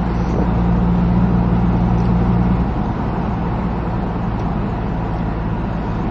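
A classic Rover P6 drives a city ring road in traffic, its steady low engine and road roar loud and continuous inside the car, easing slightly partway through, no voices.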